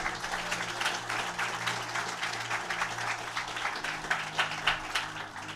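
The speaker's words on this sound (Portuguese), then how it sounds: "Você pode aplaudir Jesus por isso?" Steady applause from a church congregation, a continuous wash of many hands clapping at moderate volume throughout, with no clear breaks.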